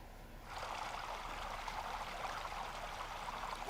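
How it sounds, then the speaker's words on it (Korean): Steady waterfall sound used as background, a broad continuous rushing of falling water that swells in after a quiet start and runs alone and fairly faint. "도움되시라고 폭포 소리 좀 깔아봤습니다"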